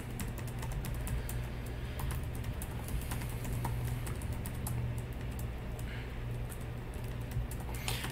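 Steady keyboard typing while code is written during a JuliaCon 2021 talk on parallelism in Julia, a continuous run of quick key taps over a low, constant hum, close and moderately loud, with no voices.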